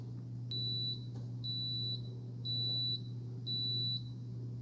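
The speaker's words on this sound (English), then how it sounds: "It's going to stop here in a second and beep at us." A Cuisinart DCC-T20 touchscreen coffee maker gives four evenly spaced high-pitched beeps when brewing finishes, over a constant low electrical hum.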